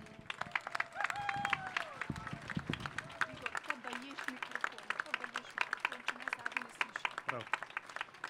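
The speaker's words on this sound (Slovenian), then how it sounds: "dajmo mu en aplavz za vzpodbudo" A crowd at the March for Life gathering in Ljubljana applauds to encourage a speaker: a steady patter of scattered claps running under prominent talk and other background sound.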